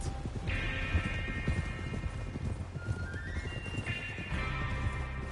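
A horse in the video game Red Dead Redemption 2 clip-clops along at close range and lets out whinnies, with sustained tonal game sound running beneath the hoofbeats.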